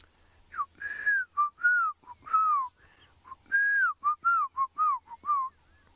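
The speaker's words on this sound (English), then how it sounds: "one of my favorite birds is calling at the moment, the black-crowned shagra." A black-crowned tchagra calls repeatedly with clear, slurred whistled notes, a rapid series of falling and rising phrases, fairly close, with quiet background.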